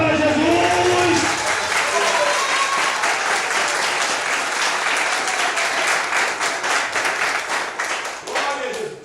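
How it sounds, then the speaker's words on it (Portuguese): A church congregation breaks into loud, sustained applause that fills the room and holds steady for several seconds before fading near the end, with voices mixed into the clapping. "Dá uma salva de palmas para Jesus!"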